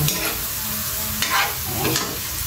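Snake gourd (ampalaya) sizzles in a frying pan while being stirred, producing a steady close hiss broken by a couple of scraping strokes.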